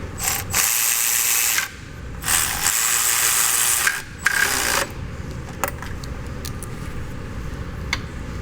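Ratchet tightening the top alternator bolt on a Mercedes S63 AMG W222 with the 5.5L engine, long loud buzzing clicks in bursts up close, then quicker, lighter clicking strokes.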